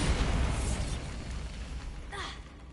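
A Bombarda blasting spell goes off in Hogwarts Legacy, a muffled explosive boom that decays into a low rumble and ends in a brief whooshing flourish.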